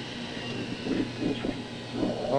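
Videotape machines running in a videotape room, a steady mechanical hiss and whir with faint rumbling swells, continuous and moderately quiet with no voices.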